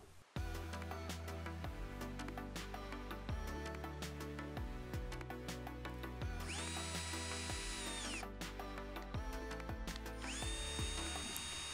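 A power drill fitted with an adjustable countersink bit pre-drills 1 cm MDF, heard as a loud, close motor whine that rises and falls through repeated bursts, with two sustained high-pitched spells as the bit cuts.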